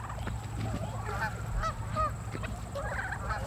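Organic pasture-raised turkeys call on a farm field with several warbling, honking gobbles and chirps over a low steady background hum, fairly close and moderately loud.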